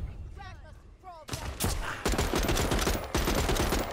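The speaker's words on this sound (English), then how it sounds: "someone shot me in the back" Rapid bursts of gunfire from the video game Saints and Sinners erupt after a brief pause, loud repeated volleys with short gaps between them, and a player talking briefly at the start.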